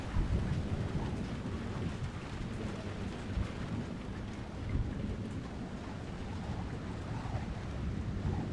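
Thunderstorm in the video game Splinter Cell: Chaos Theory: dense, steady rain with deep rolling thunder rumbles swelling and fading throughout, loud and continuous with no voices.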